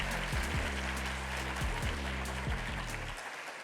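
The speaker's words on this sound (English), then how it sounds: "How about one more round of applause for our 65 exceptional ESPYs?" Round of applause at a school district's Educational Support Personnel of the Year awards, steady clapping from an audience over low sustained musical tones with a few soft thumps, fading near the end.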